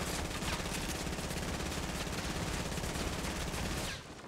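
Sustained gunfire in Fortnite, a dense, steady rattle of shots holding at a constant level before dropping off at the end.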